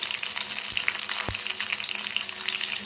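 Green chillies frying in a pan with cumin seeds and dried red chillies, a steady close crackling sizzle throughout with a couple of brief sharp pops and no voices.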